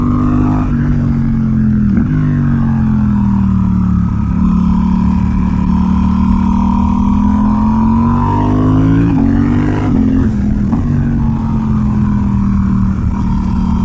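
Loud Suzuki GSX-8R motorcycle with an aftermarket full exhaust, ECU flash and airbox mod, deep throaty exhaust, revs climbing and falling with a few quick gear changes while riding.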